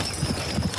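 Horse hooves clip-clopping at a crowd-facing horse show, a few soft, close hoof strikes against a low, steady outdoor murmur.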